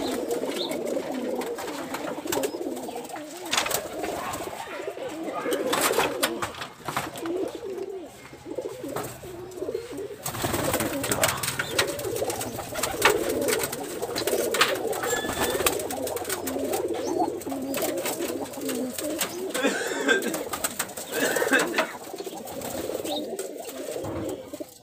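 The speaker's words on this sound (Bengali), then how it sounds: "সব এই বড় কবুতরগুলা, সব হাই ফ্লায়ার কবুতর" A flock of large high flyer pigeons coos in soft, overlapping throaty calls, with scattered wing flutters and sharp clicks from the loft over a quiet background.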